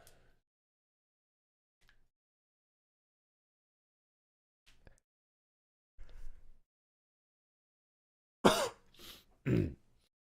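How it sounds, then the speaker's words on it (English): A person coughs twice in quick succession, loud and close, after several seconds of near silence broken only by a few faint clicks and rustles. "Accidentally coughed in my hands."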